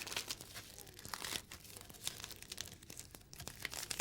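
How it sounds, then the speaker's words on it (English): Square sheet of baking paper being folded for a Christmas pudding cover, giving repeated close crinkling and crisp rustling bursts throughout, with no voices. "I find the easiest way to do this is to fold a piece of square paper like this."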